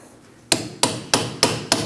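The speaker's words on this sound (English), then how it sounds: "and hammer to separate it from the knuckle." Hammer strikes a chisel to free a stuck CV axle from the steering knuckle on a 2000-2006 Mini Cooper, five sharp metallic blows at an even pace, close and loud with no talking.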